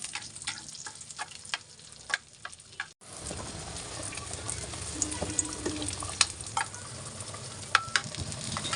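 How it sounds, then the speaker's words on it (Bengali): Dried red chillies fry in hot oil in a pan, giving a steady close crackling sizzle with scattered pops, briefly cut near the start and then continuing fuller and louder. "শুকনো মরিচগুলোকে আমি আলাদা একটু ভেজে নেব।"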